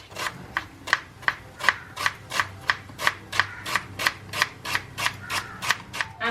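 Steady rhythmic knife strokes chopping onions on a board, about three crisp cuts per second, close and moderately quiet, with no talking.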